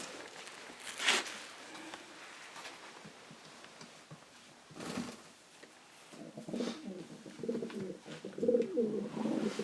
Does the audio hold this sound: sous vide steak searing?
no